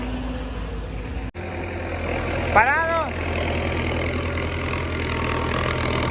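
A tractor engine running in a farm field, a steady low rumble close by, holding an even idle throughout, with a voice speaking briefly over it.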